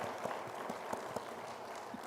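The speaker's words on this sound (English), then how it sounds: "give a round of applause for Dr. Treadway right now" Applause from a conference audience honoring an award recipient, a steady dense patter of many hands clapping for about two seconds at moderate distance, without talk over it.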